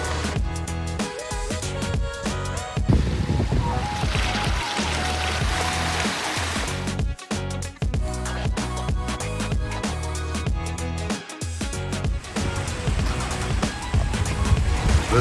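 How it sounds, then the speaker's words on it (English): Three waterfalls splash into a koi pond in a steady, loud rush of falling water that runs continuously throughout, with a few brief dips. "There's actually 3 different waterfalls on here."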